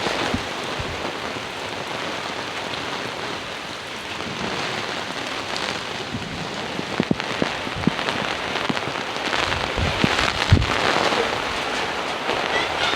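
Gusty, wind-driven rain pours down in a village, with a dense steady hiss of drops on surfaces and a few sharper knocks and patters nearby, no voices.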